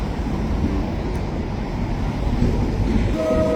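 Heavy, steady rumbling of a freight train pulling in close by, heard from a SkyTrain, a dense low roar with metallic squeal creeping in near the end.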